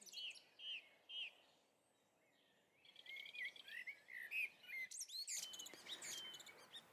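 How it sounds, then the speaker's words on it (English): Recorded dawn chorus birdsong: several birds chirping and whistling in short, bright phrases, a few sparse calls first and then a busier overlapping stretch, clear and fairly close. "I make a CD and include the bird sounds"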